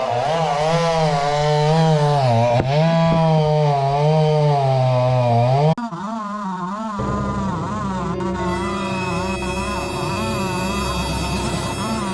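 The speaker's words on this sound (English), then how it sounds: "Busted out a big chainsaw." A chainsaw runs loud and close, its engine pitch rising and dipping as it cuts, then settling into a rougher, steady idle.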